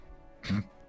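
A single short, rough cough, close and fairly quiet against a faint background hum.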